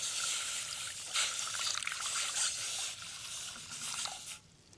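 Water pours into a pot holding coriander and ginger with a steady, close splashing trickle that lasts several seconds before tapering off.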